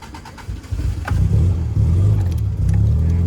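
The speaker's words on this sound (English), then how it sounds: "Now we're going to see if our car will start for like the 5th time this year." A car engine catches after a brief crank and settles into a loud, steady low rumble close by, with no talk.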